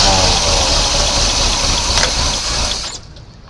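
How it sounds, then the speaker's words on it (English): A 1986 Chevy C10 that sat abandoned for 15 years, its carburetor flooded, cranks and sputters with a loud, close, rough engine roar that runs unbroken, then fades near the end. "If I can keep the starter going so it'll start."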